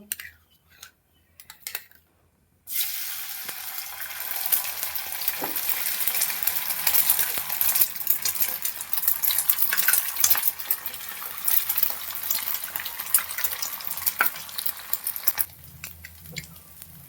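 Hot coconut oil with onion, green chili and curry leaves sizzles steadily in a pan after a quiet start, with occasional clinks as the oil is ladled over, close and continuous before cutting off.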